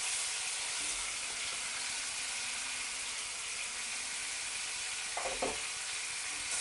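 Salt, pepper and flour go into melted butter in a pan over low heat for a fish pie sauce, a quiet continuous sizzle with a couple of brief soft knocks near the end, no speech.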